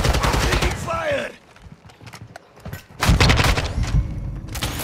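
Gunfire in Call of Duty: Modern Warfare II multiplayer: loud bursts of automatic shots and booming reports, a brief lull with scattered thuds, then heavy sustained fire, with excited speech and noise underneath.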